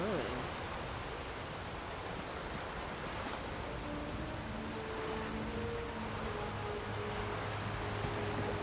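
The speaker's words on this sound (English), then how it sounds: "Looks like rain." Steady, dense hiss of rainfall in the video game The Witcher 3: Wild Hunt fills the whole stretch, with a faint low musical drone rising beneath it partway through.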